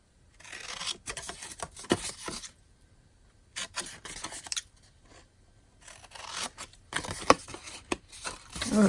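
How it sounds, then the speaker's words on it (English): Scissors snip and trim the edges of a paper gift card holder up close in several short bursts of crisp cutting and rasping separated by quiet pauses. "So I'm going to take my scissors"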